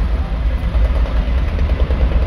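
A 2012 Doosan DX55 wheeled excavator, loading soil into a truck, runs its diesel engine at a steady, loud, low rumble throughout with no breaks.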